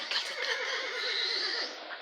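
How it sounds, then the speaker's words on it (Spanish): A horse neighs in one clear, sustained whinny with a quavering rise and fall, heard close and alone for about two seconds. "Es un caballo."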